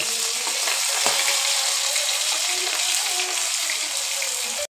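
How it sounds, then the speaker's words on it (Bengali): Taro pieces frying in a wok make a dense, even, fairly loud sizzle that holds steady for several seconds, with a single faint utensil knock near the start. "ওই কড়াইতে মুখিগুলি ভেজে নেব।"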